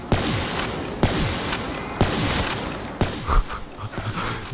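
Sniper rifle shots ring out in Black Ops 3 Zombies, five sharp, loud reports spaced about a second apart over constant game ambience.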